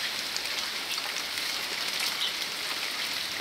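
November rain pours down in a dense, even hiss on fruit trees and the ground outdoors, a steady close wash of drops with no voices.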